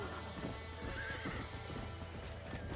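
In Red Dead Redemption on Xbox 360, a horse's hooves clop in a quick, close rhythm while the animal lets out a whinny, all over a dense game soundscape.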